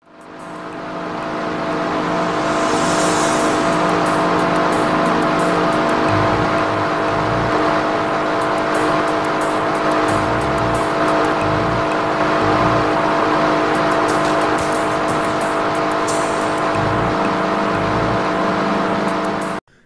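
A car engine drones loudly and continuously in the retro Knight Rider video game, a steady whirring motor hum with slight revving shifts lasting the whole stretch before cutting off abruptly.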